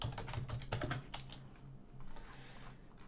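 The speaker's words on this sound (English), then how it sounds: "let's just type in Cobalt again." Close, quiet typing on a computer keyboard, a quick cluster of key clicks at the start followed by a few sparser taps, with no talk over it.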